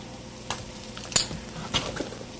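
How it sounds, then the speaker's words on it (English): Onions dropped into hot oil for a Palermo shrimp dish, a sudden close sizzle with a couple of sharp clattering stirs over a bright hissing bed, no talking. "our oil is heated up, so we're going to throw our onions in here."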